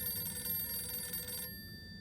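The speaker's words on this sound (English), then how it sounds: "The phone. What the fuck is that phone?" A telephone in the video game Harold Halibut rings with a steady, bright bell tone that cuts off after about a second and a half, leaving a quiet hum.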